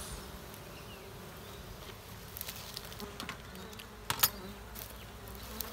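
Bees hum inside a beehive just opened with a hive tool and given a puff of smoke, a faint, steady close buzz with a few soft clicks and taps, no voices.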